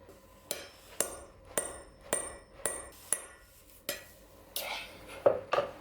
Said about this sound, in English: So you can go from the other side and punch the slug out.